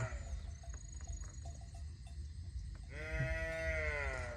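Cattle lowing outdoors during heavy rain in a rice-field setting, a drawn-out harmonic moo rising clearly over the steady hiss of rainfall after a few faint earlier calls.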